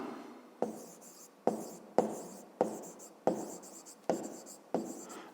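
A pen writes an answer by hand on paper in a school maths exercise, seven or eight distinct scratchy strokes in a regular rhythm, close and clear with no talk.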